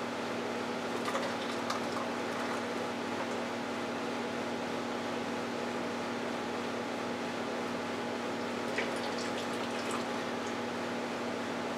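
Freshly made carrot juice, pressed from fifteen large carrots in a Black + Decker juicer, pours in a steady, continuous liquid stream that runs for about twelve seconds with no talking.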